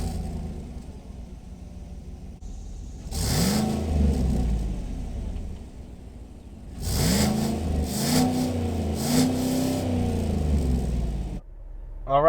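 A 2018 Chevrolet Silverado 1500 pickup with a 6.2-liter V8 on a test drive, engine droning in the cabin then surging twice in louder accelerations, revs climbing and shifting, with no talking.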